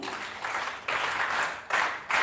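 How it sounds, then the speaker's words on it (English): Applause from a classroom audience, three bursts of clapping with brief dips between them, fairly close and steady. "So can we give her a big hand too?"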